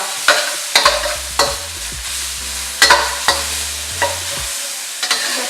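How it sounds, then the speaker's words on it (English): Vegetables for vegan drunken noodles (pad kee mao) sizzle in a hot pan, with a series of sharp utensil scrapes and clanks as they are stirred, loud and close, no talking. "what I'm trying to do is just kind of cook some of those vegetables down, but not all the way"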